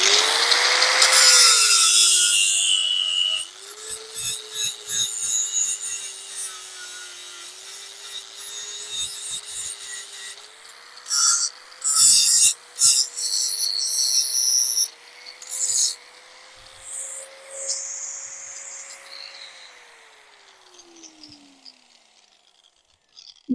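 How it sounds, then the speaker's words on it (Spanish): An angle grinder sands a wrought-iron garden sculpture, its motor whining up to speed and then holding a steady high-pitched grinding rasp with scraping bursts before winding down at the end, with no talking. "tengo la radial y lo que voy a hacer es lijar un poco"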